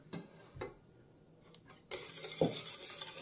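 Sugar being stirred into fresh milk in a pot: a few light scrapes and taps of a utensil, then a steadier swirling stir with one louder knock against the side, close and without voices.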